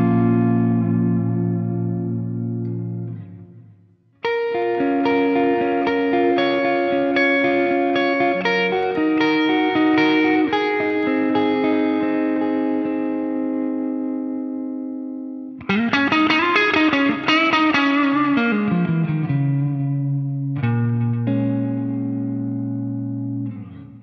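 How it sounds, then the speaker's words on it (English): Electric guitar through a Line 6 POD Go JTM 50 patch, played clean to slightly overdriven with heavy delay: sustained chords and melodic lead lines ring out with echoing repeats, loud and alone, pausing briefly before new phrases. "Snapshot number 2 can serve you as a nice clean sound with loads of delay, or it can be a just slightly overdriven lead tone"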